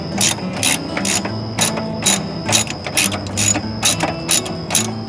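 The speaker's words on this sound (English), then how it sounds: "So I put my socket on the other end of it, and of course just unbolt it." A socket ratchet clicks in repeated quick bursts while unbolting a nut and bolt from a bushing on a Jeep, loud and close with a low mechanical background.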